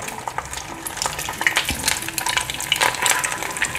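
Tofu coated in egg yolk fries in hot oil, giving a steady crackling sizzle with sharp pops and spatters close by, and no talking.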